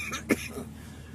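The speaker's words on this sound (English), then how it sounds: "Me coughing uncontrollably for no reason before I get on my long road trip." A single sharp cough bursts out close and loud, briefly rising above a low background hum.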